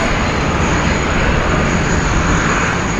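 A Qantas Freight Boeing 767-300 cargo jet, formerly a Nippon Cargo aircraft arriving from Hong Kong, roars loud and close at Sydney Airport as a dense, steady engine rumble with no voices.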